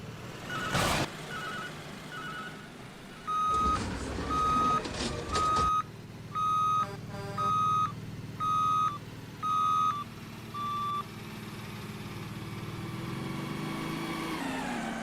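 Garbage truck with a rumbling engine and a regular series of loud reversing beeps, about eight in a row, with the engine drone swelling underneath and a sharp clunk near the start.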